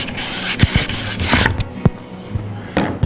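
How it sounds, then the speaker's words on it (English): A hand sander working the edge banding on a plywood panel, with rough rubbing and rasping strokes in short uneven bursts and a few sharp knocks, close and loud with no talking. "And you just want to sand until you don't feel a lip."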